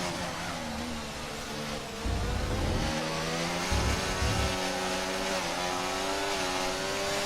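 Formula One car engine in the F1 24 racing game at the Canadian Grand Prix in Montreal, a loud, steady high-pitched whine that swells and shifts with gear changes, deeper rumbling bursts near the middle, with no talk.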